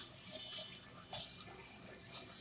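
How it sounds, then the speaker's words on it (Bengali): Cooking pots and pans washed under a running tap at a kitchen sink, a steady faint splash of water with small clinks and drips, heard close with no talking. "আমি সাথে সাথে হাঁড়ি পাতি ধোয়ার চেষ্টা করি"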